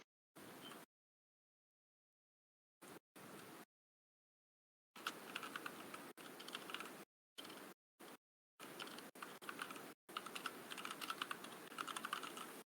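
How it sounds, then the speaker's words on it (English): Quick clicking keystrokes on a computer keyboard come in separate bursts with silent gaps between them, close and clear with no talking. "Everyone, stop typing, Ron."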